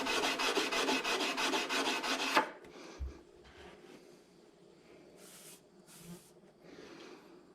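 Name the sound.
hand sanding a Lightningstone with 80 grit sandpaper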